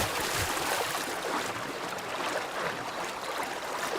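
In Breath of the Wild, a horse wades into water, producing a continuous broadband splashing and sloshing rush that stays loud and steady for a few seconds with no talk over it.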